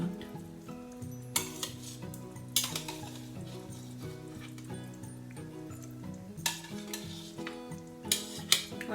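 Salted mangoes being stirred in a pan for Anglo-Indian sweet mango pickle: a spoon scrapes and clinks against the metal pan in bursts, over a steady low sizzle, with no talk.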